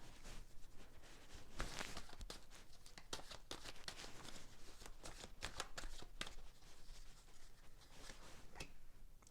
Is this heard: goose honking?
no